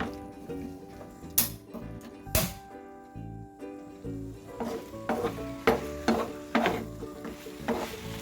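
Oats are stirred in a pan, a series of close scraping and rustling strokes with a light sizzle underneath and a few sharper knocks, growing busier toward the end.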